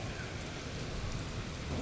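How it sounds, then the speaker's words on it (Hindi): Steady rain falls outdoors on a cool, breezy day after a long dry spell, a dense continuous patter close by with no voices. "कई दिन बाद आई ना बारिश"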